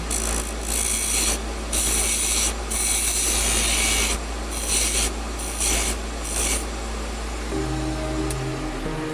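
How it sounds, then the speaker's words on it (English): A file or rasp rubs steadily against a wooden chess rook turning on a lathe, giving repeated scraping strokes in bursts over a continuous low motor hum, close and fairly loud. "I run files over mine and sandpaper."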